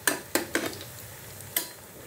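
Radish kofta fry in hot oil in a pan, giving a soft sizzle broken by a few sharp clinks and scrapes of a utensil as the pieces are turned, with no talk.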